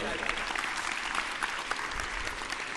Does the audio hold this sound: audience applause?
yes